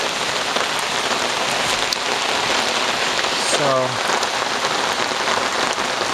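Steady, dense rain falls in Oslo, Norway, a continuous even hiss of drops hitting surfaces throughout, with a brief voice heard faintly midway.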